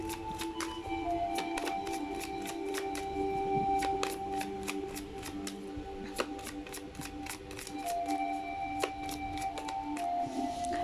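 Romance Angels oracle cards being shuffled, a long run of quick crisp riffling flicks in close, quiet succession over a faint background tone.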